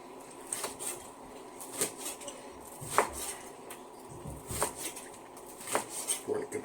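A knife slices through grilled New York steak on a board, giving soft repeated chopping taps with light clinks of cutlery, quiet and close, spaced irregularly with no talk.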